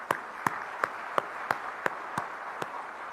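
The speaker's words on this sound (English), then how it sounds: "Please join me to give the very big applause." Sparse, slow applause at a debate at Tsinghua University: about eight distinct claps spaced roughly every third of a second, fairly faint and even, with no voices.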